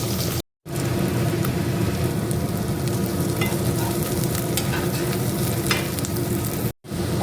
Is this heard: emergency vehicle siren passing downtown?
no